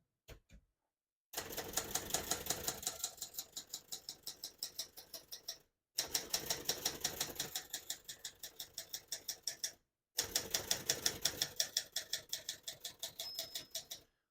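Rapid, steady keystrokes on a 1977 Adler J2 portable typewriter clatter in three long bursts separated by brief pauses, close and fairly loud, with no talking.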